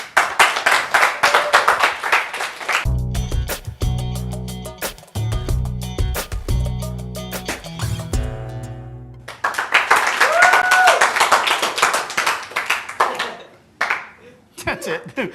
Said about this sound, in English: The one random clap was from me.